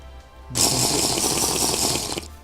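Water is collected in the TerraFirmaCraft video game with a steady rushing, splashing pour. The sound lasts about two seconds and stops abruptly, with no talk over it.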